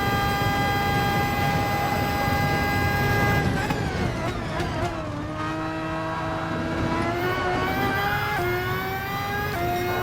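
Red Bull X2014 race car in Gran Turismo Sport, its engine screaming at high revs with sweeping pitch drops and climbs through gear changes, loud and continuous without talk.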